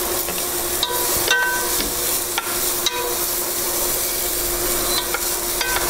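Onions sizzling in olive oil in a soup pot for a vegan barley soup, a steady close frying hiss with occasional scraping taps of a stirring spoon and a constant burner fan hum underneath.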